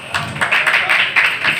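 Audience applause for a speaker at a community screening of a documentary film in Surabaya, a dense wash of clapping that swells and pulses steadily throughout, close and fairly loud with no talking over it.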